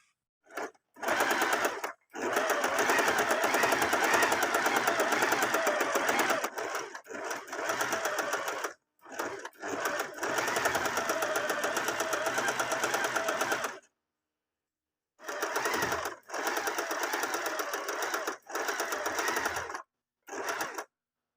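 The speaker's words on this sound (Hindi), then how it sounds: "तो ये मैं पूरी ये सिलाई लगा लेती हूँ पहले" A sewing machine runs in long, fast, rhythmic stitching bursts as it stitches a seam on shrug fabric, stopping briefly and restarting several times, loud and close with no talking.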